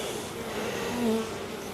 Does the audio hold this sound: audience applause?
no